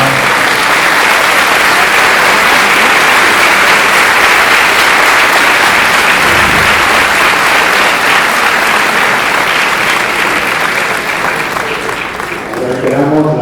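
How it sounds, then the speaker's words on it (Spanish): A university hall audience gives a loud, sustained round of applause for a 2016 presidential candidate, dense clapping filling the room nearly unbroken before easing slightly at the end. "lo recibimos con fuertes palmas"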